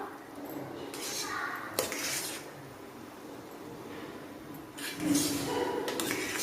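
Vegetable biryani with torn coriander leaves is stirred in a pot, giving a few soft metallic scrapes and clinks of a spoon against the vessel in two short bursts, fairly quiet overall.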